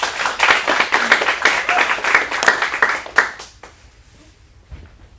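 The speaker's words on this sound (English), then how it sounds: "Let's get a round of applause." An audience at a teen acting showcase in a Phoenix acting studio claps for about three seconds, a dense, lively round of applause that stops abruptly and leaves a quiet room.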